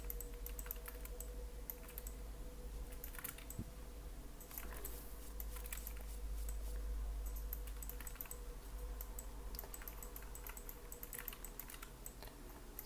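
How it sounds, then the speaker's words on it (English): Computer keyboard keys pressed steadily during 3D high-poly modelling work, a continuous close patter of quick clicks with occasional louder taps throughout. "So I'm switching back and forth with a D button on the keyboard"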